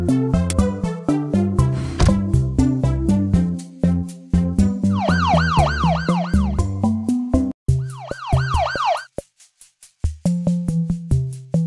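Cartoon ambulance siren, a wailing up-and-down tone rising in two stretches over a bright, bouncy children's melody, loud and close, with the music breaking off briefly near the end.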